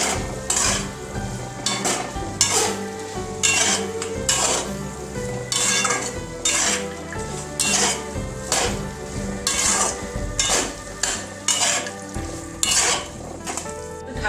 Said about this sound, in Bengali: এবারে ভালো করে কষতে হবে।